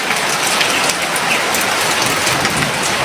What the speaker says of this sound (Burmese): ရန်ကုန်မှာမိုးရွာတာရေတွေတောင်တက်မြုပ်တယ်